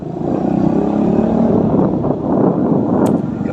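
A motorcycle engine revs hard and close, a loud, rough roar that holds steady for a few seconds.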